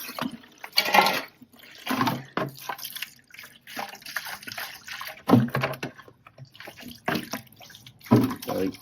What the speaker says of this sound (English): When you mix up grout, you don't need very much water.